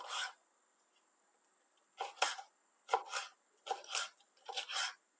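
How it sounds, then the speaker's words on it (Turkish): A red kapia pepper is being finely chopped, with a series of quick knife strokes on a board in short bursts and pauses, close and fairly quiet, with no talking. "Şimdi bir adet kapya biberimi ince ince doğrayacağım."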